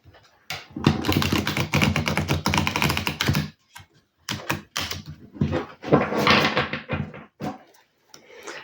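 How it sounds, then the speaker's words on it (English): A brisk run of rapid papery riffling and tapping, an oracle card deck being shuffled close up, pausing briefly before another burst of shuffling. "I'm just going to give it a shuffle."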